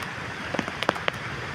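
Heavy rain falling on the Konkan coast at Kalvi Bandar, Vengurla, a soft steady hiss with a few sharp drop taps standing out, fairly faint overall.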